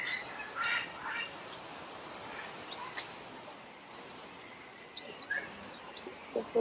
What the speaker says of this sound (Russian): Судя по звукам, приближаемся к попугаям.